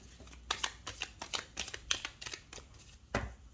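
Tarot cards are shuffled by hand with quick, close, crisp riffles and slaps, roughly a dozen short bursts in an uneven rhythm.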